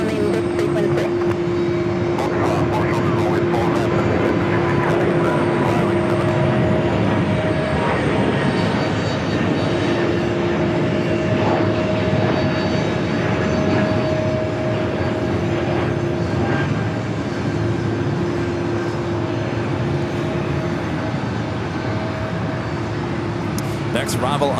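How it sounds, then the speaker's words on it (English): A JetBlue Airbus A320 jet airliner at JFK airport gives a steady, loud engine roar with a sustained tonal whine throughout, while people talk over it. "another JetBlue Airbus A320-300"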